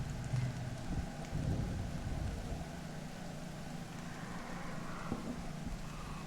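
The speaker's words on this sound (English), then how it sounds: "Oh, now it's playing rain sounds." Soft rain patters continuously in the cozy narrative RPG Exocolonist, a faint steady wash with a few low rumbles early on.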